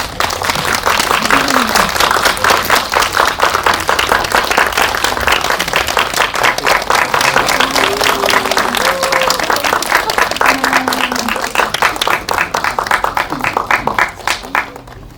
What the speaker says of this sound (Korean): 여러분 큰 박수로 맞이 부탁드리겠습니다